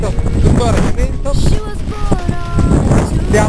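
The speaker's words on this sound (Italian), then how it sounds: "per il resto tuttora c'è vento" Strong wind buffets the microphone outdoors during a long-distance bike ride, a steady loud roar with gusty rumble, while tonal squeaks and voice-like traces sit faintly beneath it.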